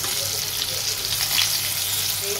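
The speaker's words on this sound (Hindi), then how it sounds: "देख सकते हैं मैंने पलट लिए सारे बैंगन को, और ऐसे ही घुमाते हुए इसे अच्छे से भूनना है।" Small brinjals fry in a little oil in a pan while being stirred, giving a continuous, even hiss of sizzling that is close and steady throughout, with no voices.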